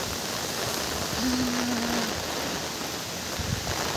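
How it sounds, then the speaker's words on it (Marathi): Dense, steady hiss of heavy rain falling, constant and enveloping, with no voices. "दाखवते पाऊस चालू आहे बघा किती जोरात"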